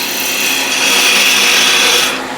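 A skew chisel on a wood lathe, used without riding the bevel, gives a loud, steady rushing scrape of spinning wood that holds for about two seconds and eases off at the end.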